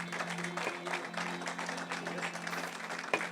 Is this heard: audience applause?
yes